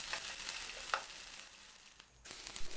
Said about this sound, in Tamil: ஒரு வெங்காயத்தை நல்லா கட் பண்ணிவிட்டு இதில் சேர்த்து நல்லா வதக்கணும்